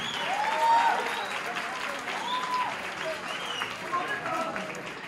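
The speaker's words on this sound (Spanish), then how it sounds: "Fuerte el aplauso para ellos." Audience at a bachata dance competition in Mexico City applauding an international judge being introduced, a steady wash of clapping with a few shouts, an announcer speaking over it.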